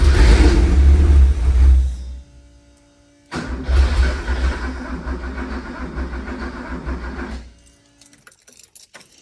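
A 1960s Porsche 911 engine, sitting unused for 35 years, cranks and catches, runs roughly for about two seconds and dies, then starts again and runs for around four seconds before cutting out, close and loud.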